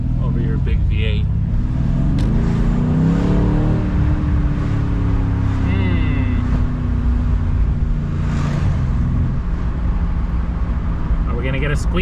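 Mercedes-AMG C63 S with a V8 engine, a loud continuous engine drone with rising revs and shifting pitch, heard from inside the car while driving through a city, with some talk over it.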